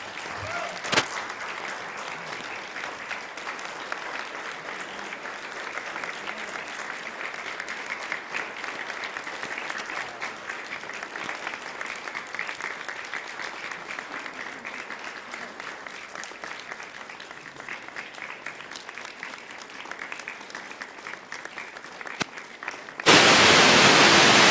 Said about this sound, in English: They're going to stop clapping.